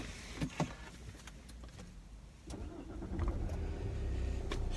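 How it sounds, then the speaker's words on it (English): A car engine cranks and catches after a few faint clicks and a rattle, then settles into a low, steady idle that grows slightly louder while running, heard from inside the vehicle. "Just start the engine."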